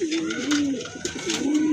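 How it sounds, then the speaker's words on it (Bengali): Tiger grizzle pigeons coo close by, two soft, rolling calls heard clearly over faint background noise. "এটা হচ্ছে আপনার টাইগার গ্রিজেল বলে যেটাকে, এটা হচ্ছে সেই কবুতর"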